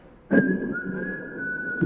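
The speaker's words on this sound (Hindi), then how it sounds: "सीटी बजा रहा है।" A man whistles a single sustained, steady high note in a film scene, starting abruptly and holding close and clear for over a second, with no talking.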